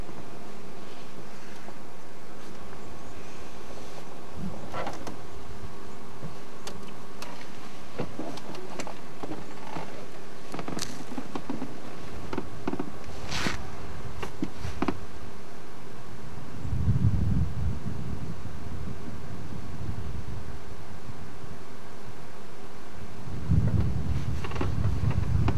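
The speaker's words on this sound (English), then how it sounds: "The wind's still blowing a little bit." Wind blows steadily around a waterhole at sunrise, a constant broad rush with occasional low gusty rumbles and faint creaks, and no voices.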